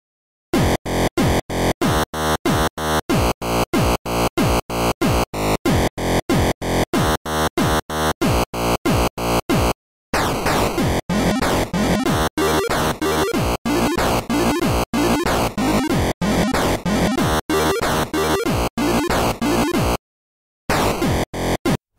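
An 8-bit chiptune loop in the OpenMPT tracker with a reedy rumble bass and buzzy square-wave tones in fast staccato rhythm, playing loud and alone, stopping briefly twice.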